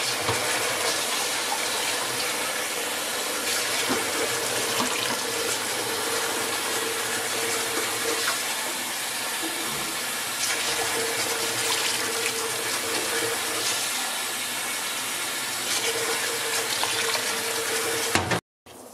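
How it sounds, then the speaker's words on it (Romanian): Water pours from a tap into a pot for a bean and cabbage soup, a loud, continuous rushing stream that holds steady for nearly twenty seconds before abruptly cutting off. "Și adăugăm și apă."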